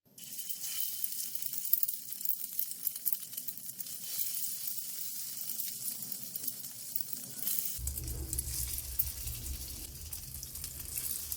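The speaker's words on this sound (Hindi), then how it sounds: "अब हम कबाब को फ्राई करेंगे।" Egg-coated chicken shami kebabs sizzle steadily in a pan with oil, a continuous close frying hiss that grows louder and fuller toward the end, with no talking.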